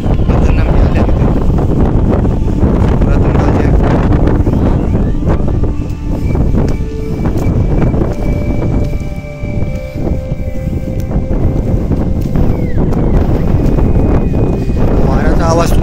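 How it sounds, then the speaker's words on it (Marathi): Strong wind gusts across the Badami cave temples in Karnataka, heavy blustery rumble buffeting the microphone loudly and continuously, with faint tonal sounds in the background. "वाऱ्याचा आवाज तुम्हाला इथे नक्कीच येत असेल. एवढा वारा आहे की पूर्णपणे मला हलवत आहेत."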